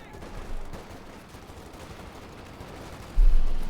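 Gunfire in Company of Heroes 2, from an OKW versus USF match, with a Sherman tank and rifle squads in the fight. A muffled, continuous battle rumble runs throughout, and a louder burst of fire comes near the end.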